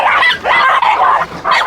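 A dog barks and yips several times in quick succession, loud and close, with short whiny edges between barks.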